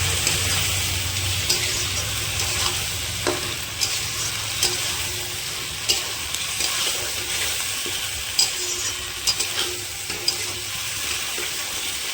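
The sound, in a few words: frying marinated chicken for butter chicken curry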